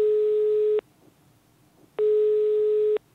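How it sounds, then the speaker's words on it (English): Ringback tone while a phone call rings through to a mobile number, two clean electronic beeps about a second long each with a silent gap between them. "So I'm actually calling your phone and see how it goes."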